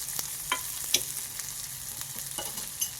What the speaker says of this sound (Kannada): ನೋಡಿ ಈಗ ತುಪ್ಪ ಕಾದಿದೆ, ಜೀರಿಗೆನ ಹಾಕ್ಕೊಂಡಿದ್ದೀನಿ.